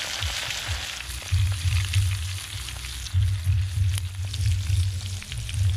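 Whole onion and garlic pieces frying in oil over an open fire outdoors: a steady, loud sizzle runs throughout over a low, pulsing rumble.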